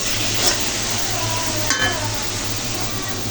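Lentils being stirred in a wok with a spoon, a steady close sizzle under soft scraping and a single small clink.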